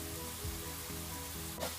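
Onion with green chilies and curry leaves sautés in a pan for chana dal vada curry, a faint, even frying hiss with a soft knock partway through.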